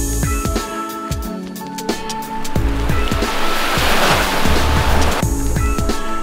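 Ocean surf breaking at a beach during a foil surfing outing, a steady loud wash of waves with repeated low thuds, as if heard from a boat or board near the water.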